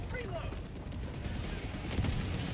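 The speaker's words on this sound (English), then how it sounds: "Thank heavens, Napalm Barrage on the two Impalers." A Napalm Barrage strike lands on two Impalers in a video game, a dense rumbling spread of booming gunfire-like blasts that swells near the end, with a voice talking underneath.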